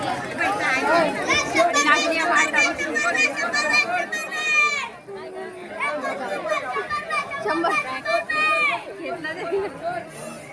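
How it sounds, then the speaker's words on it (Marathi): Busy crowd at the Ratnagiri Kartiki Ekadashi fair, a dense, close hubbub of overlapping chatter with children's voices throughout, with no single voice standing out. "आता गर्दी खूप जास्त वाढली आहे."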